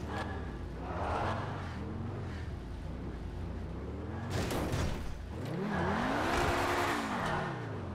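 A car engine in GTA 5 revs in two bursts, its pitch climbing and falling as the motor surges, then picks up louder and strains upward again in the second half.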